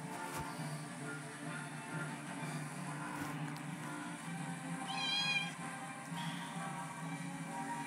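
A domestic calico cat gives a single short, clear meow midway through, standing out over steady low background noise; otherwise quiet.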